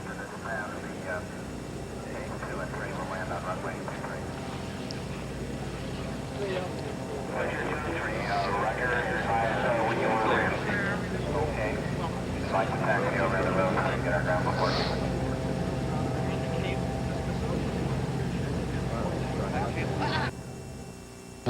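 The Voyager aircraft drones overhead at low altitude on its landing approach in December 1986, a steady engine hum swelling and fading slightly beneath continuous news commentary.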